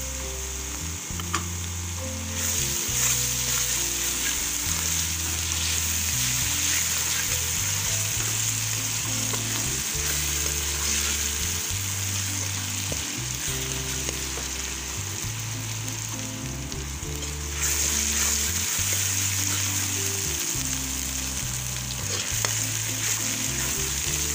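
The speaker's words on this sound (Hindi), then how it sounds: "ये सब्ज़ मिर्ची का पेस्ट शामिल कर रही हूँ।" Green chili paste fries in a pan while a Hindi-Urdu shalgam (turnip) dish is cooked, giving a steady, close sizzle with stirring scrapes throughout and no talking.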